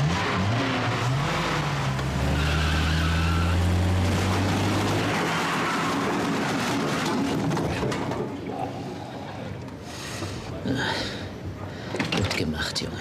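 A car engine revs and accelerates during a chase in a German crime drama, a loud rising motor drone over the first seconds that fades into rumbling road noise while people talk over it.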